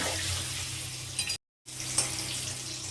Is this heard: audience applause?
no